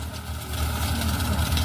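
A tractor engine idling low and steady while turning between rows in a farm field, a short continuous rumble heard close by with no break.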